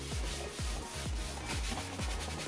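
Steady rubbing strokes across a leather car seat being cleaned during repair, a repeated swishing scrub at a regular rhythm of about two strokes per second, close and fairly quiet with no talk.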